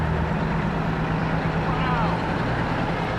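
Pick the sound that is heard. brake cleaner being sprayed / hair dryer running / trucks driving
trucks driving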